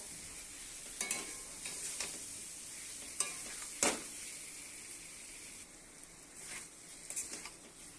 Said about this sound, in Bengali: ভেজে রাখা আলুটার সঙ্গে আমি কষিয়ে নেবো